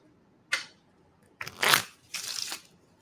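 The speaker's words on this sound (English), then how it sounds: "I have to shuffle a little extra." Tarot cards being shuffled in three quick riffling bursts, close and crisp, with short pauses between them and no talking.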